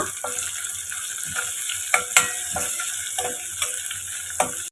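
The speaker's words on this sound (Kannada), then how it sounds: "ಸ್ವಲ್ಪ ಕರಿಬೇವಿನ ಸೊಪ್ಪು ಮತ್ತು ಒಂದು ಈರುಳ್ಳಿ ಥರ ಸಣ್ಣದಾಗಿ ಕಟ್ ಮಾಡಿ ಹಾಕ್ಕೊಳ್ತಾ ಇದ್ದೀನಿ. ಇದನ್ನೆಲ್ಲ ಮತ್ತೆ ಫ್ರೈ ಮಾಡ್ಕೊಳ್ಳೋಣ." Chopped onion and curry leaves fry in a pan for palak pappu, a steady hiss with a few sharp scraping stirs and clinks from a spoon, close and moderately loud, with no talking.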